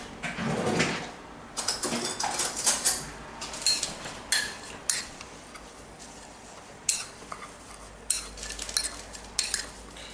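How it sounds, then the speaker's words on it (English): A utensil stirs a dry spice seasoning for flank steak together in a bowl, making quiet, irregular clinks and scrapes against the bowl in short bursts with pauses between. "We're going to put that all together and then you want to mix it up."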